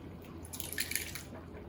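Canned diced tomatoes poured into a pan for chilli con carne, a brief burst of wet splattering and dripping in the middle of an otherwise quiet moment, faint and close.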